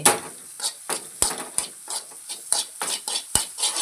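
Egg beaten and fried in a pan over a high flame: rapid, repeated scraping and tapping strokes against the pan over a steady sizzle, loud and close.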